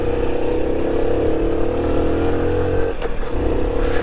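A 1992 Honda C50 motorcycle ridden around a housing estate, its small engine droning steadily close up with a brief dip in revs partway through, no talk.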